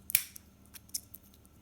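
Scissors cut open battery packaging with a sharp snip followed by several fainter clicks and snips, close and alone.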